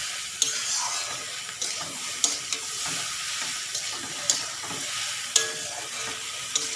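A spoon scrapes and stirs salt through vegetable curry frying in a pan, a constant bright sizzle broken by regular sharp knocks of the spoon against the metal, close and loud with no talk.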